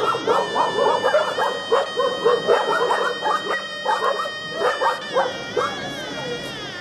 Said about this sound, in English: I'm wondering if the monkeys get along with the dog.